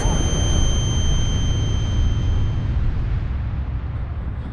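A loud, sustained explosive rumble in the video game F.E.A.R. 2 that stays dense and heavy throughout, slowly easing off toward the end, with no voices over it.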